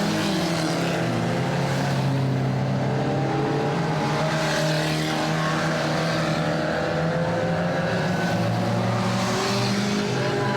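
Ministox stock cars race at a Warton Stock Car Club meeting, a steady loud roar of several small engines droning and revving together, rising and falling as the pack circulates, with no talk over it.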